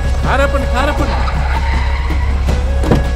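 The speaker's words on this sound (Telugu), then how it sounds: "ఏదో కారు వస్తుంది, ఆపండ్రా ఆపండ్రా" A car approaching on a rural village road and stopping, a sustained loud engine and tire noise with a shrill skidding squeal, while excited voices shout over it.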